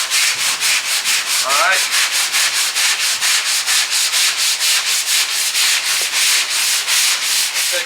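A sanding block rubs back and forth in a cross motion across a car body panel during collision repair, giving a steady rhythm of about three scratchy strokes per second that stay close and loud, with one brief spoken word.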